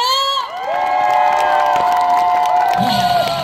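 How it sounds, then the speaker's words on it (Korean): A crowd at an outdoor walking event in Goryeong cheers and shouts loudly, with drawn-out whooping voices, children among them, and some clapping underneath, all sustained and close. "어떻게 에너지가 얼마나 넘쳐나는지 박수로 한번 확인해 볼까요?"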